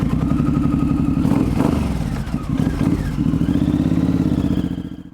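A Suzuki M109R motorcycle's big engine rumbles up close with a deep, lumpy idle, then revs and pulls away with a throaty, rising roar that fades slightly at the end.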